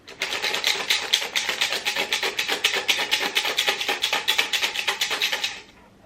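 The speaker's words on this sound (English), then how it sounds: "I also have some like paper clips in here, so that's what mostly is making the noises" Paper clips and folded prompt slips rattle inside a container shaken in fast, steady bursts for several seconds, close and fairly loud, then stopping abruptly.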